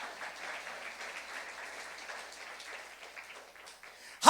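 A church congregation at a Saturday youth worship service claps in a steady, moderately distant wash of applause that slowly thins out, ending in a sudden louder knock.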